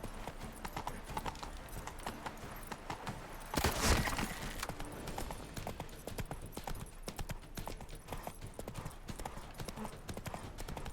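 A horse trots along in The Witcher 3, its hooves clip-clopping in a steady, continuous rhythm, with a heavier thump partway through and faint game sounds underneath.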